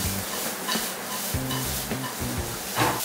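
Yellow, green and red capsicum are tossed in a stir-fry pan with sizzling and repeated scraping, clattering strokes in an uneven rhythm, close and without talk.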